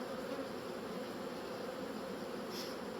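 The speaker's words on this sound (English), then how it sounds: "There's a good amount of bees." A steady, close drone of many honey bees buzzing from an open hive box, continuous and unbroken throughout.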